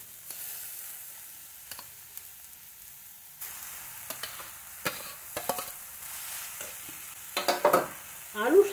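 Potatoes and raw green peas fry in a pan for vegetable chops, a quiet sizzle punctuated by sharp scraping stirs and clatters that grow louder toward the end.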